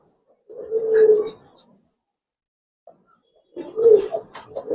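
Two bursts of soft, throaty Giribaz pigeon cooing, close by, separated by a quiet gap of about two seconds.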